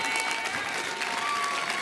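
A crowd claps after a pitch at a Baltimore entrepreneurs' demo day, a brief burst of steady, dense applause with no break.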